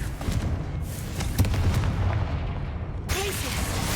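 A Confringo blasting curse detonates in the Hogwarts Legacy video game, heavy booming bursts rolling over dense low rumble, with a fresh blast striking near the end amid continuous game noise.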